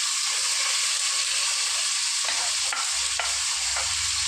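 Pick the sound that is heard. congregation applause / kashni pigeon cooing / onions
onions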